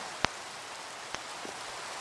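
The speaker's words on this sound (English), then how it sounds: "When will this rain stop?" Rain falling in the video game Minecraft, a steady hissing downpour with a couple of sharp distinct clicks and a faint thud standing out over the constant wash.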